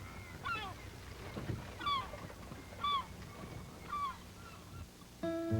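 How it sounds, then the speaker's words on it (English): Gulls call over the wreck of the Marizon near South Manitou Island, Michigan, giving faint, distant squawks about once a second over low outdoor background noise. "Spooky how the gulls have taken it over now."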